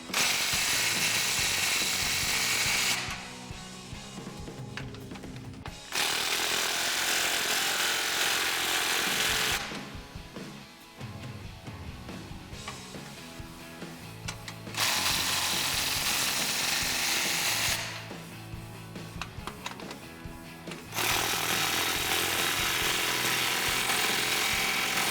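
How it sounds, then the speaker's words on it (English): Clamps on a 2015-2017 Mustang GT C&L cat-back exhaust being tightened with a power tool: loud, harsh bursts of several seconds each, broken by short, quieter pauses, repeated four times. "Now I'm gonna line everything up and tighten these 4 clamps up."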